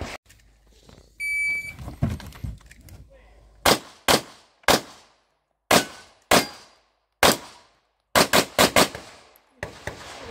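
Military gunfire during the Baltic Storm 2022 exercise: a series of loud, close, sharp shots, some single and some in quick clusters, following a brief electronic beep and quieter rustling at the start.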